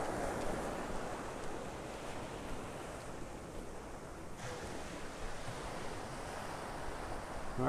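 Ocean surf washes steadily onto a Gulf beach at Delnor-Wiggins, a continuous broadband roar with gentle swells and some wind noise on the microphone, with no voices.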